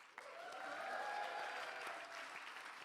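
Audience applause fills a lecture hall, a sustained wash of many hands clapping at steady volume after a brief quiet start, with no talking over it.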